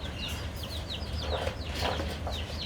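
A white hen with a black tail, a laying hen kept at home, clucks in a few soft, short calls over a steady low background hum.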